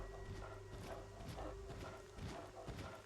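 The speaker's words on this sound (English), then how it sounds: "the sound of those footsteps coming down the hall scare me" Footsteps come down a hall in the video game Fallout 3, a steady, heavy, rhythmic clomping over a low constant hum. The whole scene is quiet and distant.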